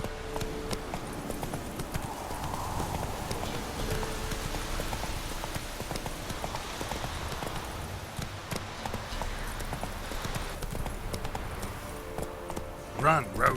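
A horse gallops in The Witcher 3 video game, its hooves beating a steady, rapid clip-clop throughout over a rain-like hiss of the game's ambience.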